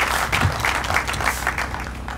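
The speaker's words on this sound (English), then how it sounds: "let's give the Parks Department and Police Department a round of applause" An outdoor crowd at a recreation center grand opening applauds the Parks and Police Departments with brisk clapping and rising swells, fairly close, under a low background rumble.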